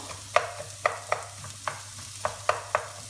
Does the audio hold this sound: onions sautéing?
yes